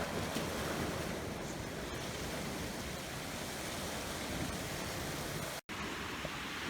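Ocean surf at Bangol Beach in Agno, Pangasinan, a white-sand beach with rocky crags, heard as a continuous, faint broadband wash of waves with some wind noise and a brief dropout near the end.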